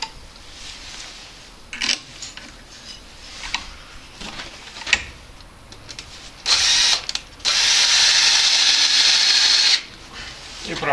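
A power drill drives 5 mm screws into 8 mm dowels in a PVC window frame set in a block wall, with short spins and ratcheting clicks followed by a long, loud whirring run up close.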